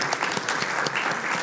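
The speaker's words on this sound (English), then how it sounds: "Applause." Audience applause at an AI and music festival talk, a steady dense wash of many hands clapping throughout, fairly loud and even, with no voices over it.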